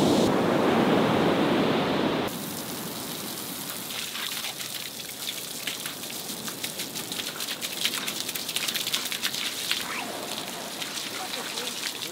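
Ocean surf on a beach breaks loudly as a broad wash for about two seconds, then settles into a softer, steady rush with scattered small splashes and crackles.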